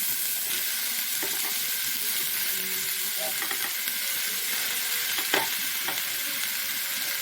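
Prawns frying in a hot pan, a steady bright sizzle, broken by occasional scraping and clinks as they are stirred, close up, with a faint voice in the background.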